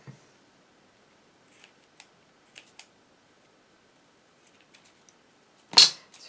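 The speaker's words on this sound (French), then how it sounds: "Ce ne sont pas les meilleurs ciseaux ici pour couper le tissu." Scissors snip through fabric while a flower bouquet card is made from recycled plastic straws, giving a few faint, sparse clicks followed by one louder, closer cut near the end, with no talking.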